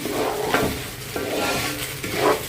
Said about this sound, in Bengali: তারপর হচ্ছে আমি সুন্দর করে চালটা ভেজে নিচ্ছি